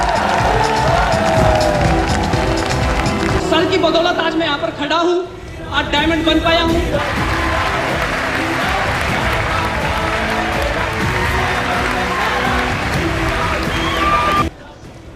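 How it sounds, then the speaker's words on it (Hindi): A large standing audience at a diamond celebration event applauds and cheers loudly and steadily for nearly fifteen seconds while someone speaks over a microphone, before the noise cuts off abruptly. "एक बार जोरदार खड़े होकर के बहुत जोरदार तालियों से उस शख्स का स्वागत करेंगे"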